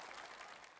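Audience applause with some cheering at a children's concert of a familiar classical medley, a dense steady wash of many clapping hands, fairly distant and quiet.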